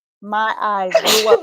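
One sudden sneeze bursts out near the end of a brief voiced stretch, loud and close in a quiet interview room, with a person speaking around it.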